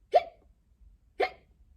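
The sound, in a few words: hiccup imitated by a reader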